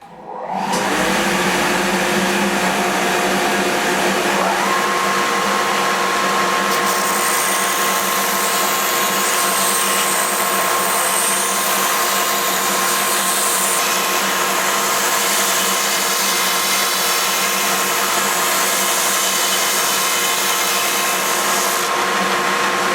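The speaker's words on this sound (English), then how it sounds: "I'm going to take it to the belt sander and I'm going to put a point on one end" A belt sander grinds a point onto the end of a 1x2 scrap wood piece, a loud, steady whirring hum with rasping friction that runs continuously up close.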